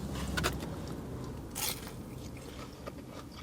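Someone bites into a piece of crispy battered fish from a fish and chip shop, giving a couple of close, sharp crunches followed by soft chewing, fairly quiet and without talk.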